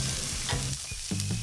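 Fish sizzles and crackles on an electric grill outdoors at a campsite, a loud close frying hiss broken by short scraping stirs and pops, with no talk.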